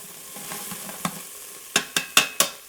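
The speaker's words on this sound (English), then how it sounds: "Okay, so we're gonna add the celery." Celery added to sizzling beef stew in an Instant Pot, a soft frying hiss under a few light scrapes, then four sharp, close stirring knocks in quick succession.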